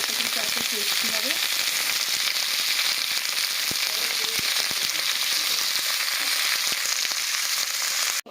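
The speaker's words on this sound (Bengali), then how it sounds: "এখানে আমাদের সরষের তেল গরম হয়ে গেছে, এই যে কাঁঠাল এঁচড়গুলোকে আমরা দিয়ে খুব ভালো করে একটু ভেজে নিচ্ছি।" Pieces of young jackfruit fry in hot mustard oil, giving a loud, continuous crackling sizzle with occasional sharp pops and faint stirring scrapes near the start.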